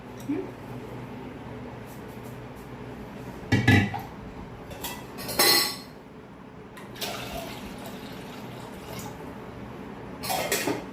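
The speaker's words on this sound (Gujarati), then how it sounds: "અને આમાં હું મિલાવું છું અડધું પાણી." Water poured into buttermilk for Gujarati dabka kadhi, with a few sharp vessel clinks and clatters standing out over a steady low kitchen background.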